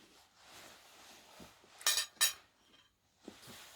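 Metal cutlery clinks against a plate while melon is cut into pieces, two sharp bright clatters in the middle with softer scrapes and taps around them, fairly quiet and close.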